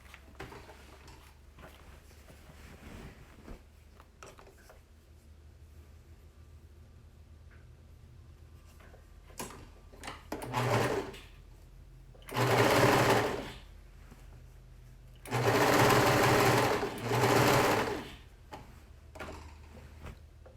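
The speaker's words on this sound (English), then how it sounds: "And then you're just gonna sew it down." A sewing machine runs in several bursts while stitching a dress's side seams, short whirring runs then two longer loud stretches, with quiet speech and handling noises in between.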